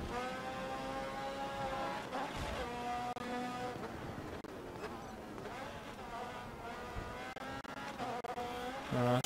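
A race car in the GRID Autosport video game brakes hard with tires squealing, a loud whining engine note rising and falling, while pitch-shifting squeals and skids come through in several bursts.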